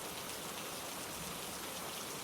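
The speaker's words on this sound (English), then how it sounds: "Rain softens, becomes steady again, a blanket of sound wrapping itself around the café" Steady rain falls outside a café as an even, dense hiss of drops on surfaces, soft and continuous without breaks or voices.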